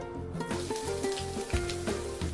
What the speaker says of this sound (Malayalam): വെളിച്ചെണ്ണ ചൂടായി വരുന്ന സമയത്ത് ഇതിലേക്ക് 10 ചെറിയുള്ളി സ്ലൈസ് ചെയ്ത് നുറുക്കിയത് ചേർത്ത് കൊടുക്കാം